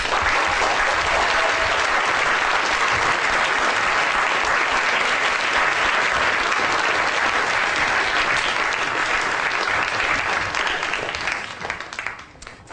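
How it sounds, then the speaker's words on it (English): A lecture audience at the Royal Institution gives a big round of applause, loud dense clapping that holds steady before tapering off in the last second or two. "give a big round of applause for everyone"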